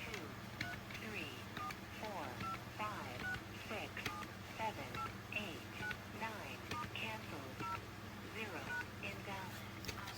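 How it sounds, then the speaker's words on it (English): Short DTMF dialing tones in quick irregular bursts from an AT&T 210 telephone, each beep brief and clear over a steady low hum, with faint speech in the background. "DTMF on that guy seems to be working."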